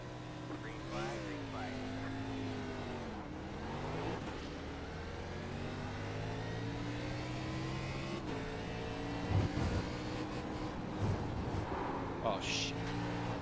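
Race car engine at Spa holding a steady high-revving drone with rising and falling pitch sweeps, loud and continuous throughout, with brief bumps and a voice heard faintly over it.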